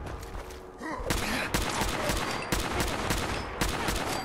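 Repeated heavy gunfire in the video game Fallout 4, loud shots landing about once a second with a rumbling tail between blasts, heard alone without talk.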